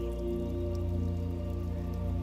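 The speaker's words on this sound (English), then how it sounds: "I'm going to leave you for a little while listening to that rain" Steady rainfall patters continuously at a moderate level, with a low droning hum running underneath the whole time.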